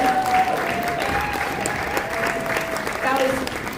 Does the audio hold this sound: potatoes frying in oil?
no